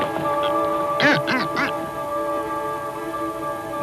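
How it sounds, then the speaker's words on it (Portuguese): A weakened seabird chick gives a quick burst of three or four nasal, quacking begging calls, close and loud, then falls quiet over a steady low drone. "A insistência do pássaro enfraquecido só irrita a mãe."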